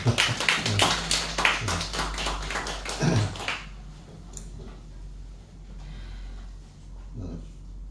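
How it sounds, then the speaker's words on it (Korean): Several people clap together for about three seconds in a church service, steady and close, then the clapping stops and the room goes quiet. "다 환영의 박수 한번 쳐드려야죠."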